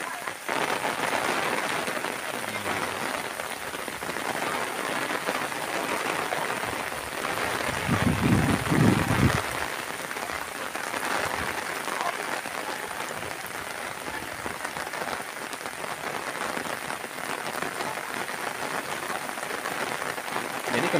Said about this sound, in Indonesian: kembali lagi hujan lagi ya sahabat ini